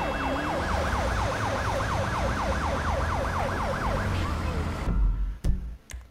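A wailing ambulance siren in Grand Theft Auto V rises and falls steadily for several seconds over a rumbling engine, then cuts off, followed by a few sharp knocks.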